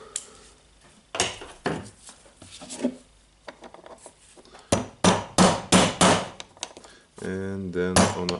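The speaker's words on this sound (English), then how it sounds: "I will hammer to the inner ring." A socket is hammered against the inner bearing ring of a Makita DGA452 grinder, a series of sharp metallic taps, some single and some in quick runs, close by, with someone speaking between strikes.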